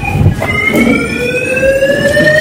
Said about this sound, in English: It's like an alarm drill.